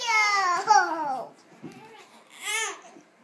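An infant fusses and cries in short, whiny vocal bursts, loud at first, then a quieter pause, then another brief wail, close to the listener indoors.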